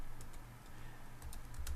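Someone types a web address on a computer keyboard, a faint quick run of soft key clicks heard close by against low background hum.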